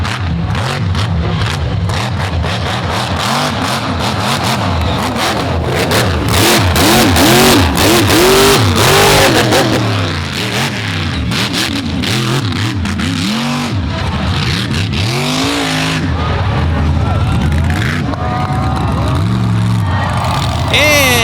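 Monster truck engine revving hard at an All Stars event in Naples, tires tearing up sod as it cuts across the track, loud and continuous with a commentator talking over it.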